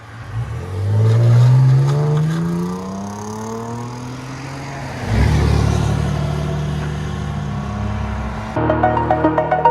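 A 2001 Audi A6 with its muffler deleted revs loudly up and back down, revs again with a raspy roar, then settles into a close, choppy, pulsing idle.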